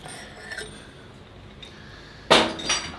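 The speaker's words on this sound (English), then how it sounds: "let's pull our puller out here." A metal puller tool is lifted out and handled in a workshop during a John Deere 1050 tractor engine teardown, giving faint light scrapes followed by one sharp, close metallic clank and a brief rattle.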